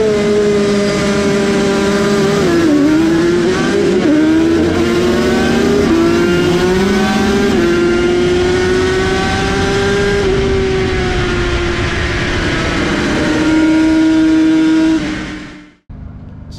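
A Yamaha TZ racing motorcycle engine howls at close range on the track at Cadwell Park during a 750 post-classic race, pitch rising and falling through gear changes for about fifteen seconds before cutting off abruptly.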